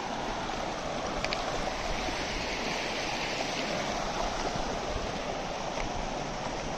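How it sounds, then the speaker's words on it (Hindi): Steady broadband rush of a mountain stream flowing near a temple in Pauri Garhwal, Uttarakhand, continuous and fairly close with no voices over it. "अब पानी की क्या प्लीजेंट आवाज़ आ रही है"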